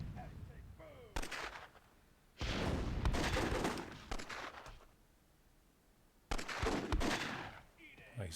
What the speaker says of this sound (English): Nice gunfire there.